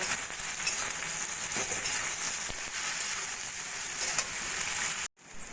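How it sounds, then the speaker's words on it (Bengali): Potato and brinjal pieces frying together with salt and turmeric in a pan, a loud continuous sizzling hiss up close that cuts off abruptly near the end. "এবার আলু বেগুনগুলো একসঙ্গে একটু ভাজা ভাজা করে নেব"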